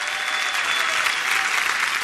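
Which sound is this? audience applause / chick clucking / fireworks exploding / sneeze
audience applause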